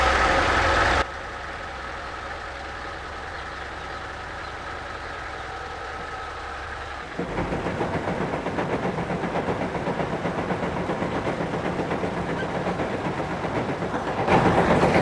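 An engine-driven rice mill grinding palay in a rural province runs with a steady mechanical drone, first quieter, then louder and rougher with a rhythmic clatter as it picks up partway through.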